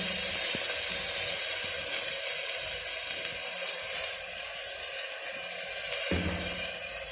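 Spices hit hot oil in a pan over a low flame while making masala matar pulao, giving a steady airy hiss and sizzle that stays fairly even, with a brief clunk near the end.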